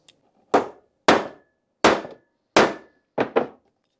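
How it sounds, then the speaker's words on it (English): A hammer strikes a punch into a hole in a part for a Trabant P60's brakes, five loud, sharp metallic blows with short decays spaced about half a second to a second apart, the last two in quick succession. "Just gonna find a bit bigger hammer, because what I'm trying to do is to punch something into that hole to make it expand"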